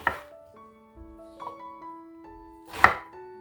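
Half an onion chopped on a cutting board: a few sharp, separate knife strikes spaced about a second apart, with quiet tonal background music between them and no talking.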